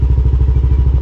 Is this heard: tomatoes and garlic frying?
no